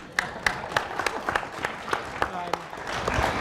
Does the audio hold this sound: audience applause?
yes